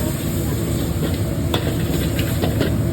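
Soaked sator stink beans and shrimp stir-fried in a pan with a splash of soup stock: a steady, close sizzle runs throughout with light scraping stirs over it.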